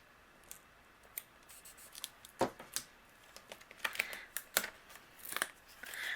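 Scissors trimming a strip of patterned paper for a birthday card, a run of short, crisp snips spaced irregularly, quiet and close, with light paper rustle between cuts.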